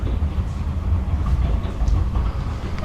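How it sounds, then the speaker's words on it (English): A miniature railway train at Conwy Valley Railway Museum, Betws-y-Coed, rumbles past close by, a steady low roar with faint rhythmic clatter and a soft hiss over the top, with no talking. "It's the miniature railway going past."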